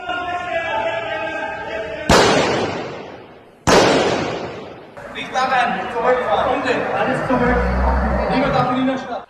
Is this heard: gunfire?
yes